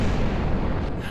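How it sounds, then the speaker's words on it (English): A rocket blows up in the Kerbal Space Program video game, a loud, sustained rumbling explosion that fills the whole clip with dense low roar and no clear breaks. "That is an awesome explosion."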